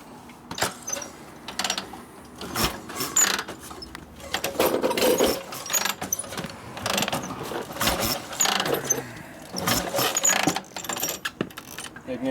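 A rusty 1952 Harley-Davidson FL panhead with a repaired Linkert carburetor is kicked over, giving irregular metallic clanks, clicks and rattles up close without the engine catching.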